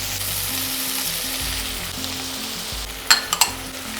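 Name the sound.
sautéing chopped vegetables: chili, onion, tomato, capsicum, sweet corn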